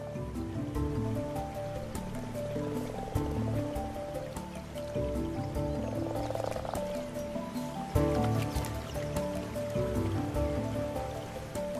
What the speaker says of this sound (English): The shallow water fills with frogs and their spawn.